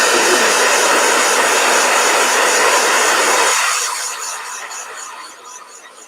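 A blow dryer runs loudly and steadily as it dries a watercolor painting, a broad whooshing hiss that cuts off partway and fades into a quieter tail.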